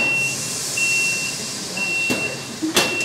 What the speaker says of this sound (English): You don't have to hear the alarm anymore.